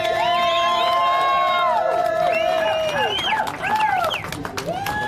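Loud crowd at the NOLA SpeedTour race in New Orleans, cheering, whooping and shouting steadily throughout, with high voices rising and falling over a dense roar that dips briefly near the end.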